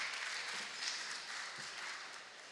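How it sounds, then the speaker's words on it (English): Faint, steady applause from an audience welcoming a transformative coach to the stage, a soft continuous patter of many hands heard from a distance with no voices. "a lovely warm round of applause today to welcome her"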